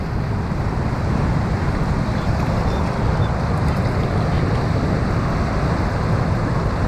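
Ocean waves washing onto a beach on the central Oregon coast, a loud, continuous roar of surf and rushing water with wind buffeting the microphone.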